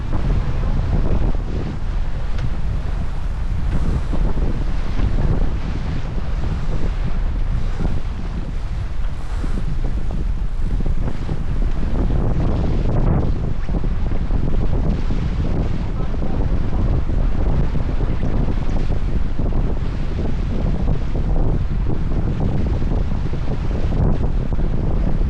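Strong wind roars steadily across open water on San Francisco Bay during a pursuit sailboat race near Raccoon Strait, with loud buffeting on the microphone and washing waves beneath, continuous throughout with no talk.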